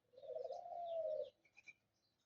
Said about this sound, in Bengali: ঘুঘু পাখি।